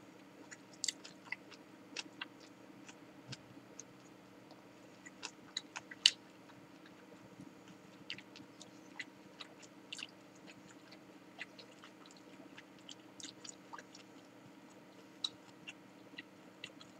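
Faint, close chewing of a chewy snack alongside a Black Nikka whisky highball, with soft irregular crunchy bites and clicks spread across a quiet background.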